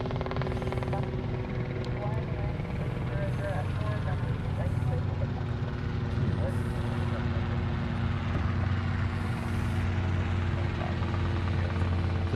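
A Southwest Airlines jet arriving from Maui at Honolulu airport, a steady low engine rumble and roar holding constant throughout, heard from a distance with broadband wind-like noise.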